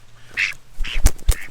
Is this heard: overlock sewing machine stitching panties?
no